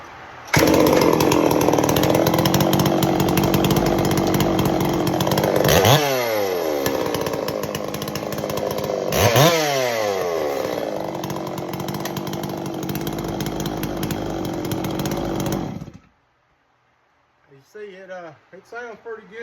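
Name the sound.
Stihl MS660 clone chainsaw engine test fired, idling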